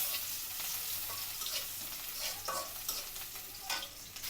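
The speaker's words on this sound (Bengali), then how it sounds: "ঝোল ডাল পেঁয়াজ রসুন আর পাঁচফোড়ন দিয়ে তেলে দেওয়া হচ্ছে" Dal being tempered in hot oil with onion, garlic and panch phoron gives off a steady, close sizzling hiss with brief crackles and a few stirring scrapes throughout.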